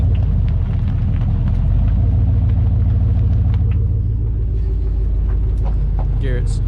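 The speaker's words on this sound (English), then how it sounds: "He got a diesel exhaust on this thing." Deep, steady exhaust rumble from an idling Ford 6.0 diesel lifted truck with a straight-pipe diesel exhaust, loud and close, droning continuously with people talking over it.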